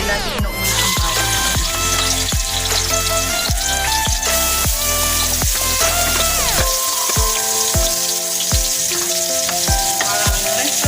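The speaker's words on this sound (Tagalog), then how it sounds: "Una, mag-igisa po tayo ng bawang." Garlic sautés in a pan, producing a loud, continuous, close-up sizzle and crackle, with music playing and no talking.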